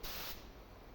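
A spray gun sprays DryVit Reflectit coating onto a wall, giving a short, close burst of bright hissing that drops to a softer, steady spray after a moment.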